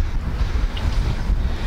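Strong wind blows outdoors beside a fishing lake where a feeder rod is set up, a loud continuous rumbling buffet against the microphone with gusty swells and no voices.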